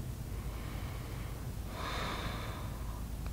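A deep breath is drawn and released during a beginner yoga session, a soft breathy rush that swells near the middle and fades, close and alone without talk.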